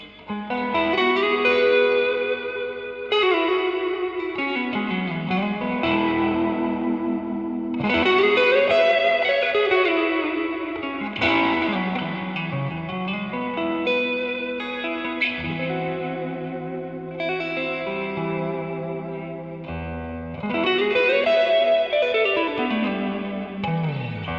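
An electric guitar plays sustained chords through a NUX NDD-7 tape echo pedal with reverb, each strum trailing off into washy repeats.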